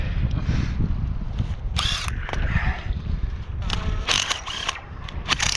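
Ratchet wrench turning during work on a spacer cart for a power line span, with bursts of rapid clicking ratchet strokes over a rumbling low background, fairly close, in irregular clusters.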